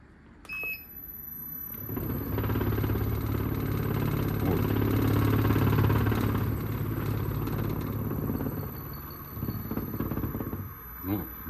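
The motor of a homemade machine that combines a vibratory tumbler and a grinder runs with a steady, fairly loud mechanical hum for several seconds, then eases off, with a brief voice near the end.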